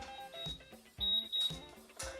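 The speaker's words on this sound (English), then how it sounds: "timer's gone off" A kitchen oven timer goes off with a run of bright, repeated electronic beeps in short bursts, fairly clear and close in a quiet home kitchen.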